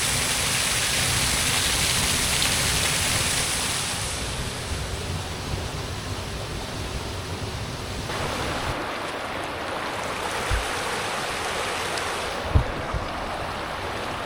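A mountain river in full spate after heavy overnight rain roars with a loud, steady rush of churning water that fills the air continuously, with only faint knocks and shifts underneath.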